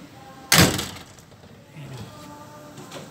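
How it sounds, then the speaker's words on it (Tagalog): Back door of a Mitsubishi L300 van shutting with a single loud, close slam, followed by a brief fading rattle and faint background sounds. "Sasara natin yung pinto."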